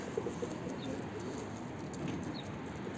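A pigeon coos softly amid a steady, noisy outdoor background, the low murmuring calls faint and continuous with an occasional light chirp.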